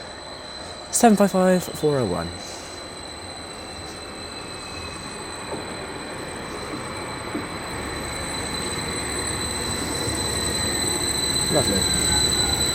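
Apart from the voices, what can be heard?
Greater Anglia train arriving at Berney Arms station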